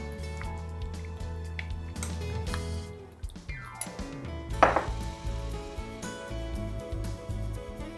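A knife chops on a cutting board in quick irregular strokes, with a few clinks and soft kitchen handling noises between them.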